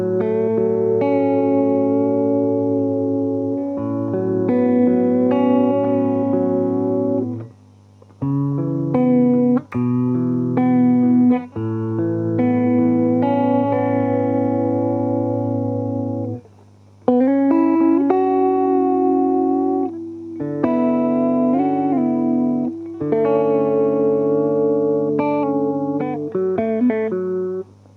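An electric guitar played through a Zoom MS-50G multi-effects unit set to emulate a Zvex Instant Lo-Fi Junky vibrato pedal sounds wobbly, chorus-like chords and notes. The phrases are clear and come in bursts with short pauses between them.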